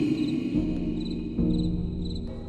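Crickets chirp steadily at night along a dusty dirt path, a continuous insect drone with faint pulsing high chirps, heard alone under a low background hum.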